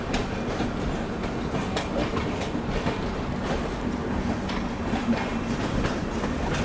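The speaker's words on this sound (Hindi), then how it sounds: "तो अपनी ट्रेन तो निकल चुकी है चेन्नई सेंट्रल रेलवे स्टेशन से" The Tamil Nadu Express rolls out of Chennai Central station with a steady, continuous rumble of wheels and carriages, heard from on board at an even level with no talk.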